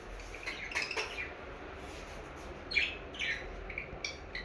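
Six pet parrots give faint, scattered chirps and short tweets in a quiet room, with a few brighter calls clustered near the start and again toward the end.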